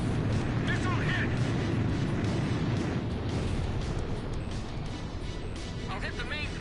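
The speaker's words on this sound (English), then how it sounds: "Missile hit!" Missile explosions in the combat flight game Ace Combat 5, a dense rumbling roar of blasts and engine noise running steadily throughout, with radio voices talking over the action.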